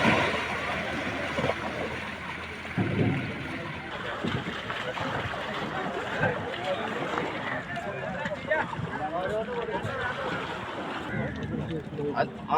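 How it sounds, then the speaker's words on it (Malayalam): A fishing boat laden with fish comes into a harbour at Chellanam, a low engine rumble and water wash under steady wind noise, while people talk nearby throughout. "മീനുമായിട്ട് ഒരു ബോട്ട് വരുന്നുണ്ട്."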